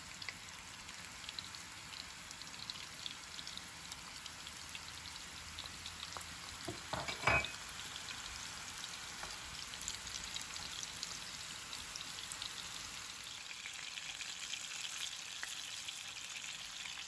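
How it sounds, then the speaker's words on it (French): Meatballs fry in a thin layer of oil in a pan, a faint, even crackling sizzle throughout with one brief louder burst partway through. "Dans une poêle, je mets un fond d'huile et je fais cuire mes boulettes de viande."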